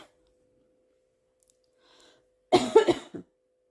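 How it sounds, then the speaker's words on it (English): A single short tickly cough bursts out after near silence, a close burst of two or three quick spasms from one person. "Tickly cough."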